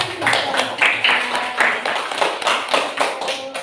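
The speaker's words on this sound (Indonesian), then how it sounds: "Tepuk tangan." A group of participants in a school coaching session claps together in a brief rhythmic round, with patterned bursts of hand claps close by and fairly loud.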